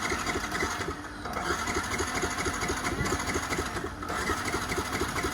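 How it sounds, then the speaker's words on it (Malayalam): A Yamaha R15 V3 motorcycle engine idles close by at a steady mid-pitched rhythmic thrum with a brief dip in level, heard alone without talk. "എഞ്ചിൻ സൈഡിൻ്റെ സൗണ്ടൊക്കെ നിങ്ങളൊന്ന് നോക്കിയേ"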